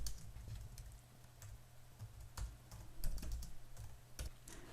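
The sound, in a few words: typing on a computer keyboard into template boxes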